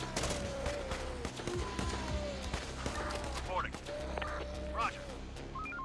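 Scattered gunshots ring out in the Infection Free Zone video game, sharp bursts spaced irregularly under someone talking.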